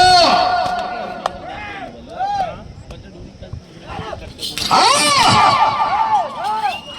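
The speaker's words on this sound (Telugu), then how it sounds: "జనాల్లో విజిల్లు కేకలు కేరింతలు" A crowd at a village bullock-cart pulling competition in Avulampalli whistles, shouts and cheers: sharp, wavering whistles over loud, sustained yelling that swells near the end, with voices shouting close by.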